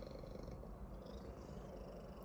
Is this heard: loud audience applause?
no